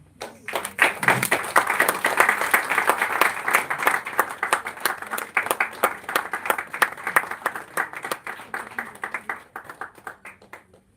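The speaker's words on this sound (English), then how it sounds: "Let us celebrate this wonderful achievement with a huge round of applause." An audience at a book release applauds loudly with dense, sustained clapping that gradually thins toward the end, with no one speaking.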